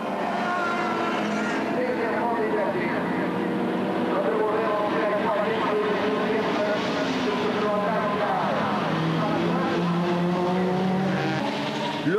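Honda Integra touring cars racing at the Spa 24 Hours, with high engine notes rising and falling as the cars pass and change gear, under continuous commentary from a voice.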